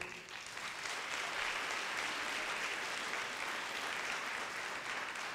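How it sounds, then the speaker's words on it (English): A full room claps together in sustained, even applause for a hall of honor inductee at an athletics awards night, without any voices on top. "Give a round of applause for Brooke Britton."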